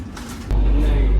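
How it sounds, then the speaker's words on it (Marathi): A vehicle passes at a crossing while a Vande Bharat train waits. A sudden loud, deep rumble surges in about halfway through and holds steady and close. "आत्ताच एक गाडी गेली"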